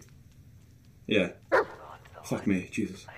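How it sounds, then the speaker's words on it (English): A dog barking in the Blair Witch video game, several sharp barks in quick succession, loud and close after a quiet stretch, with a voice talking over them. "Okay, that's my dog, I think."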